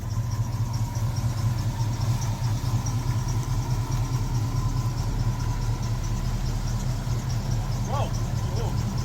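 A 1966 Ford Mustang engine idles with a steady low rumble as the car rolls slowly backward, a continuous close drone held throughout, with faint voices and a brief squeak near the end.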